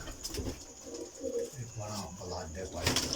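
Pigeons coo in low, rolling calls nearby, repeated several times, with a voice talking over them.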